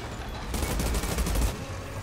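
Gunfire in the Outriders video game, played as a Pyromancer: a dense burst of rapid shots lasting about a second over steady game background, with no talking.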